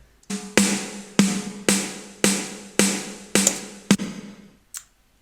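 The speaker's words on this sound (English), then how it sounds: "my favourite effect in the whole world for a snare, which is gated reverb." Snare hits with a big gated reverb cut off abruptly, seven or so punchy strikes in a steady rhythm followed by a faint final tap, no voices.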